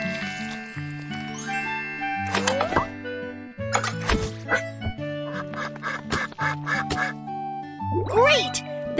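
Cartoon duck quacks in Baby Panda's Pet Care Center, a veterinarian pet-care game, come in short repeated bursts over bouncy, steady game music with chiming notes throughout.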